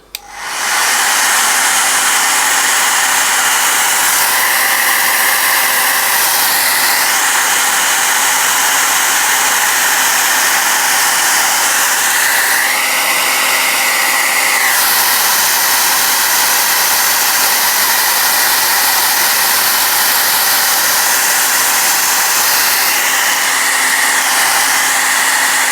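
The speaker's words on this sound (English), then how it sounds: "next step is to get the hairdryer onto it." A hairdryer blasts a steady, loud whooshing roar close by as it dries a paint wash layer on metal, its pitch shifting slightly when moved, running continuously with no talking.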